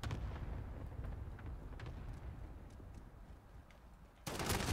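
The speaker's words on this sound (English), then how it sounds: "Enemy cluster strike incoming. Take cover." Several explosions from an enemy cluster strike in Call of Duty Modern Warfare multiplayer rumble in deep, distant-sounding thuds and crackles, with a louder, sharper blast bursting in near the end.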